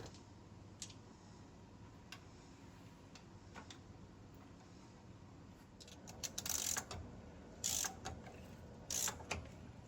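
A brake caliper on a Prevost coach is adjusted by hand: a few faint ticks over a steady low hum, then several louder ratcheting clicks in quick bursts near the end.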